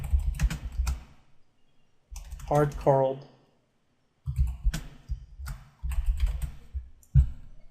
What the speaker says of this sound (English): Sorry about the keyboard.